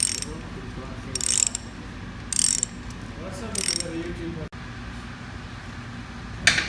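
Bolts on a pump bearing power frame are tightened with a ratchet tool, giving several short bursts of rapid clicking separated by pauses, plus one sharp knock near the end.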